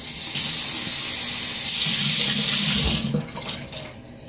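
Water gushes from a kitchen tap into a cup, a steady close hiss for about three seconds before it cuts off, leaving a few small drips and splashes.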